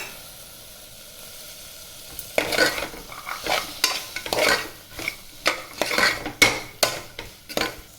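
Mint paste and green peas sautéing in a pan, with a soft sizzle under repeated scraping and stirring strokes of a spoon against the metal, loud and close after a quieter opening.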